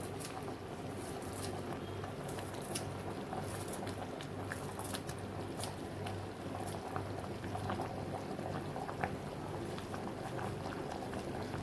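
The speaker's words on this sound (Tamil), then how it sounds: "நல்லா கொதிக்கட்டும்." Thick green pea kurma curry bubbles and blips steadily in a pot, a close, quiet simmer of popping bubbles with no voices.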